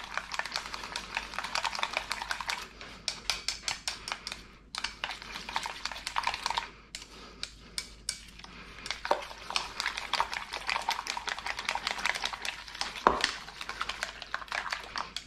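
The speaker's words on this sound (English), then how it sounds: "And then we just whisk this all together." Eggs and pork are whisked together in a bowl for a crispy Thai omelette, producing a steady run of rapid clicking and tapping strokes for several seconds, close up with brief pauses.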